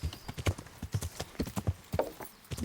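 Horse hooves clip-clopping in the video game Kingdom Come: Deliverance, a steady quick trot of fairly faint hoofbeats with no voices over them.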